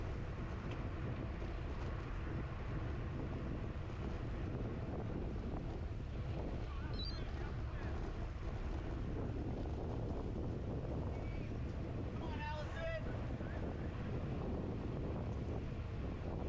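Heavy, continuous wind buffeting a microphone while riding in a women's Cat 4/5 road bicycle race at Manhattan Beach, a dense roar throughout with no clear talk.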